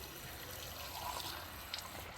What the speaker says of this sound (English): I'm putting water in here.